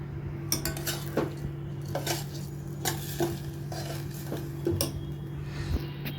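Frozen peas being stirred into rice in a pot with a metal spoon, giving repeated scraping clinks against the vessel over a steady low hum and faint sizzle, with no talking.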